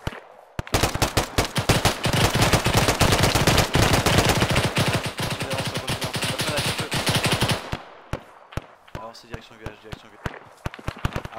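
Sustained suppressive rifle and machine-gun fire in Arma 3 pounds loudly and almost continuously for several seconds, then breaks into scattered single shots while voices talk over it.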